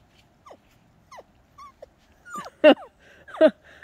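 A dog at home makes a string of short snuffling, squeaky whimpering noises, faint at first and then louder grunting snorts near the end, like a pig foraging.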